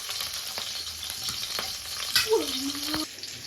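Bitter gourd frying in a kadai with onion masala, a continuous close sizzle broken by scraping stirs and a couple of sharp clatters, with no talk over it.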